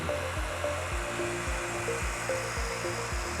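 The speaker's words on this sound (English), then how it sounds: "I'm just gonna heat this front edge just to fully relax the film." A heat gun blows steadily on paint protection film being applied to a car hood, a constant airy whir with a faint regular pulsing beneath it and no talking.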